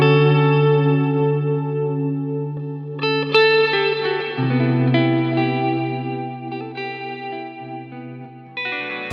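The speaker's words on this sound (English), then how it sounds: "I can harmonize with myself with it, and I can just make so many different sounds with just this one pedal." Electric guitar runs through an EarthQuaker Devices Afterneath reverb pedal, sustained chords blooming into shimmering, echoing trails, with new notes struck at intervals and the washy reverb tail swelling and fading between them.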